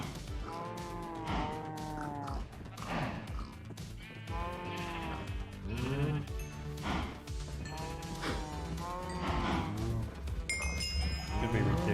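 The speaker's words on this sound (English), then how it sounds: "Hello, cows." Cattle in the Minecraft video game moo repeatedly in a close, steady series of lowing calls over a busy in-game background, with no speech.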